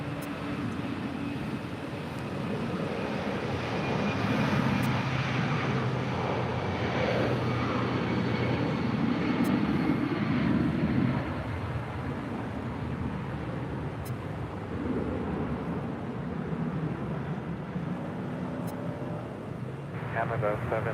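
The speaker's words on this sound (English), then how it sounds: "this is Delta Airlines 1670 departing to Atlanta on a 757-200" Delta Airlines Boeing 757-200 departing LAX for Atlanta, a distant, steady jet rumble rising and fading under a commentator talking and air traffic radio chatter.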